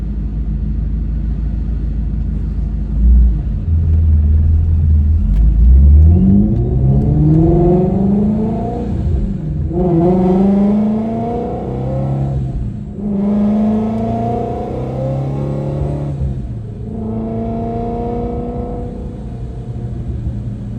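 A supercharged Ford Mustang GT350 with a long-tube exhaust and resonators pulls hard from inside the car, its engine climbing through repeated rising revs with gear shifts in between, loud and droning with a steady road rumble underneath.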